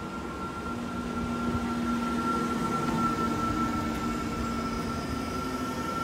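A train at Delft Campus station, with a steady, continuous rumble and a sustained tonal hum from the engine, loud and close throughout, with no talk.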